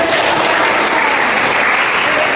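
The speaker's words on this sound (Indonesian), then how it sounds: "Tepuk tangan." A classroom of students claps together in steady, dense applause during a microteaching lesson, sustained and fairly loud with no voices over it.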